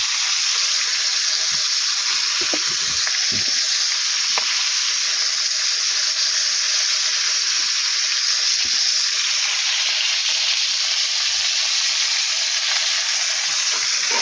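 Pointed gourd fries in a pan with a loud, steady, hissing sizzle that runs unbroken throughout, with a few soft knocks of stirring and no voices.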